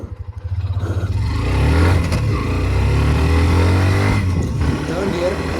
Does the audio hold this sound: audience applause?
no